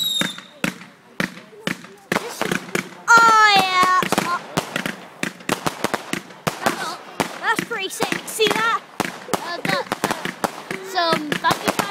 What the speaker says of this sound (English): Some bucket fireworks going on now.